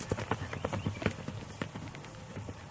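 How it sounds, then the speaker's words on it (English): A horse cantering on a lunge in an arena, its hooves thudding in a quick, rhythmic three-beat pattern, fairly close and steady with no other sounds. "That's a beautiful, relaxed canter."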